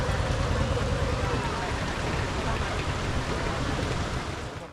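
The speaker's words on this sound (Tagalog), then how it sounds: "lalong lumakas ang ulan." Heavy rain pours steadily around a boat, a dense continuous hiss that stays loud throughout and fades slightly at the end.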